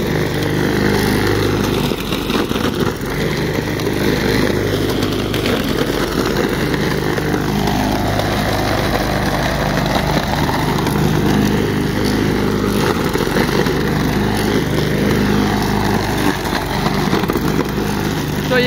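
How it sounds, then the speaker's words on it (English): A loud engine-driven grinding machine shredding leaves and cardboard runs continuously at close range, with a steady droning roar that rises and falls slightly in pitch and has no talk. "So I always pick up all my leaves and I grind them up and I grind up cardboard."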